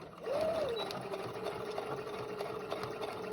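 A sewing machine stitches a fabric mask, a steady close-up motor whir with a rising whine as it speeds up at the start, running continuously.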